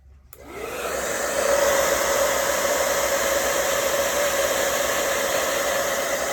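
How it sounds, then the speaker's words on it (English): A hair dryer blows steadily on a colored pencil costume sketch to set green color, starting abruptly and holding a loud, even whoosh with a constant whine, close up and with no talking. "let me just blow dry her again a little bit real quick"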